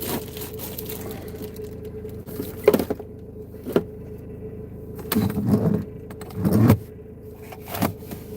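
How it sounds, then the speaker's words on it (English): Inside a moving car, something rattles and clatters in short intermittent bursts over a low steady road rumble, with a few louder knocks scattered across the stretch. "Something's rattling and it's doing my head in."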